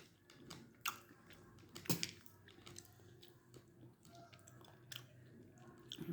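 A young child chews grapes close by, producing soft, wet, irregular squishes and small bites, with a couple of sharper crunchy snaps standing out from the quiet.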